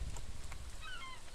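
Game birds honk and call in a farming game by fish ponds, a goose- or pelican-like squawk rising briefly near the end over a low steady background.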